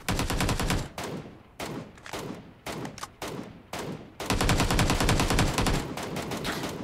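Bursts of automatic gunfire in the battle-royale shooter New State Mobile, loud, rapid volleys broken by short pauses, with a long sustained stream of shots near the end.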